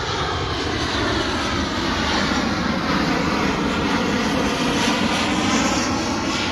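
A fixed-wing airplane drones steadily overhead, its engine roar loud and continuous throughout with no voices.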